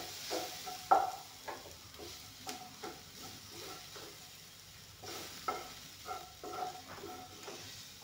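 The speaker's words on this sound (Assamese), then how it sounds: "এতিয়া এইখিনি ভালদৰে ভজা গৈছে।" Bitter gourd frying and being stirred in a pan, with a steady close sizzle broken by repeated scraping stirs and clinks, alone and without talk.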